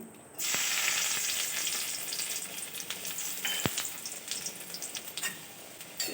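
Chopped garlic hits oil and crackles into a loud, steady sizzle that holds throughout, close and dense, with a sharp scrape or clink partway through.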